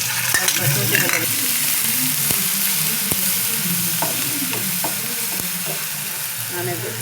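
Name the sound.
frying onion with ginger garlic paste for fish egg masala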